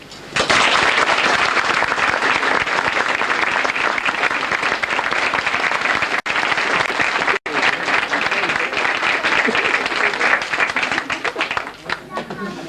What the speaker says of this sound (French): Vous méritez évidemment nos applaudissements chaleureux